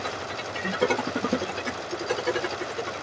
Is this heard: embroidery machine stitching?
yes